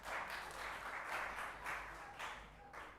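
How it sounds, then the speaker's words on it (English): An audience applauding Hassan Omar at a Somali independence lighting ceremony, faint clapping with uneven bursts and a few louder pulses. "give him a round of applause"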